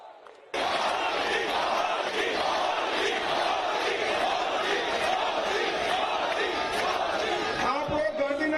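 A crowd at a road show for Modi claps and cheers loudly and continuously, a dense roar of applause and shouting that swells and holds near the listener.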